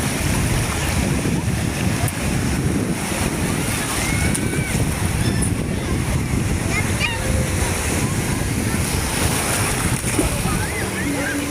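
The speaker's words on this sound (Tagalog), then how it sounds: "Yan na alon, yan na alon, yan na alon." Loud, continuous rush of surf with splashing and wind buffeting the microphone, the water noise filling the whole stretch.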